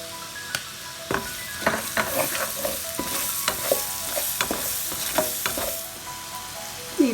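One large chopped onion sautéing with garam masala in a pan for creamy mustard chicken, a continuous sizzle broken by repeated scraping stir strokes at a moderate level.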